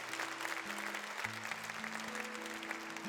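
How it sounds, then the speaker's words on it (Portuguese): Church congregation applauding at a Thursday Eucharistic service, a steady dense wash of clapping that holds at an even level throughout, with sustained organ or keyboard tones sounding underneath. "Pode aplaudir, aplaude com força."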